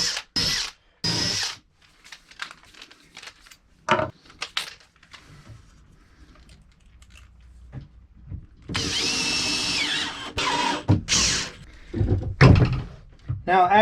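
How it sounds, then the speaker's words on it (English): A power drill drives screws into wooden hanging-locker parts during a boat restoration, with short whirring bursts, clunks and knocks of handling in between, and a longer run of drilling near the end. "Let's screw this together."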